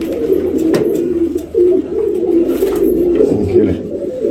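Pigeons kept in a loft coo in low, soft, overlapping throaty murmurs, close and continuous, with a few faint rustles in the background.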